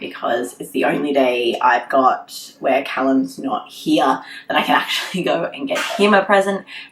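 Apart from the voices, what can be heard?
None of the usual background noises is heard.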